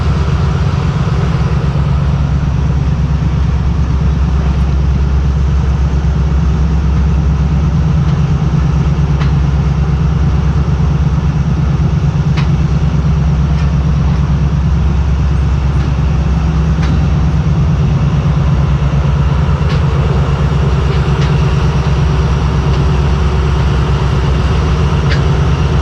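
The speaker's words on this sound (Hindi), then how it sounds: "10:36 पर बदर एक्सप्रेस किला शेखपुरा जंक्शन से रवाना हो रही है।" At Sheikhupura Junction, the Badar Express locomotive drones with a loud, steady low engine rumble as the train departs, continuous throughout with faint clicks and rattles above it.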